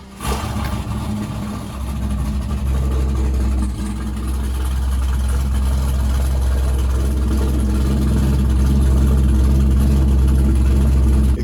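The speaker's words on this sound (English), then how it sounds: "Go ahead, plug back in the battery, go into the car, start it up." A C5 Corvette engine starts cold after its battery is reconnected, then settles into a steady, loud, low idle rumble that builds slightly and holds alone.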